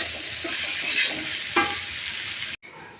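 Chopped onions and green chilies frying in a pan, a loud steady close sizzle with a brief stirring scrape midway, cutting off abruptly near the end, no voices.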